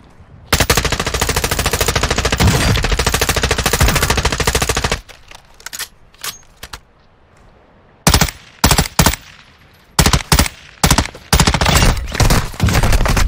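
Video game gunfire rattles in a long sustained automatic burst, then stops and returns as a string of short, loud machine-gun bursts separated by brief pauses.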